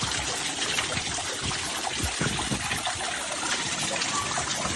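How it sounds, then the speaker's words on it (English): Hand-built indoor waterfall in a restaurant, water trickling and splashing continuously in a steady, close wash with soft background murmur. "I'm going to show you Salah's waterfall that he built by hand"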